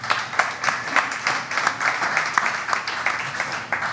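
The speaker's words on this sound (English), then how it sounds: "Let's give a round of applause for these two." A small audience applauds, a scattered, irregular run of claps that pulses unevenly at moderate loudness and continues steadily for the whole stretch.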